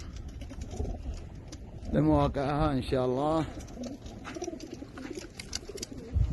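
Racing pigeons coo in a few close, throaty bursts in the middle before release for a 330 km race, with someone speaking over faint background noise.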